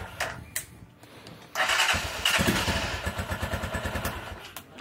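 An AKT NKD motorcycle engine cranks with a few thumps, then catches and runs with a loud, rhythmic, pulsing putter that gradually steadies, close up with no talk.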